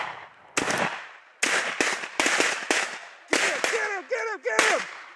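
Shotgun blasts during a mallard duck hunt in Oklahoma, a rapid series of sharp close reports in quick succession, with ducks quacking among the final shots.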